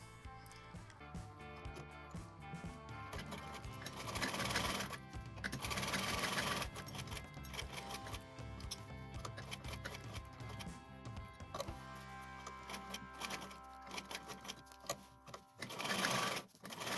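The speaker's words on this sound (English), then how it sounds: "And then sew alongside the designer pattern." Sewing machine stitching along a designer front neck pattern on a kurti, a close continuous mechanical whir of rapid needle strokes, pausing briefly and restarting in short bursts near the end.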